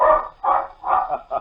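A black and white water spaniel barks as a radio drama sound effect, with four short, loud bark-like bursts in an even rhythm and no talk over them.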